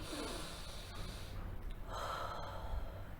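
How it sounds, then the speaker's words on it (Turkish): A deep, slow breath drawn in and let out in a quiet indoor setting during a guided self-affirmation exercise, a soft airy rush with no speech over it. "Derin bir nefes alıyorsun."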